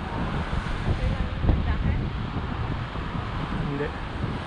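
Wind blowing steadily at The Grotto on the Bruce Peninsula, Canada, a broad continuous rush buffeting the microphone with a rumbling low end, near and fairly loud throughout with no voices.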